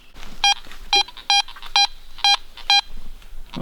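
Metal detector tone over a buried old Miller High Life beer can near a colonial-era stone bridge: six short, bright, evenly spaced beeps, clear and close, over faint outdoor background.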